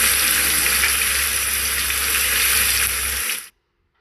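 Chicken liver frying with a spoonful of chicken masala, giving a constant dense sizzle close up that stays loud and steady, then cuts off abruptly into silence just before the end.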